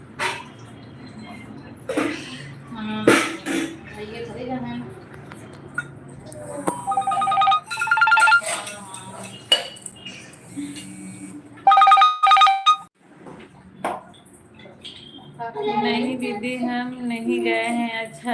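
A telephone rings indoors in two short electronic bursts of ringtone, while people talk around it before and after the rings.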